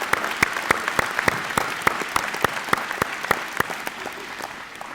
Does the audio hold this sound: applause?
yes